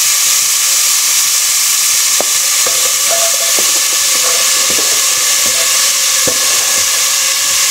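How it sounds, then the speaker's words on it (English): Garlic warming in a pot on the stove gives off a steady, loud sizzle and hiss, with scattered faint pops and light clicks of a utensil against the pot, and nobody speaking. "we've got our garlic warming up here in the pot"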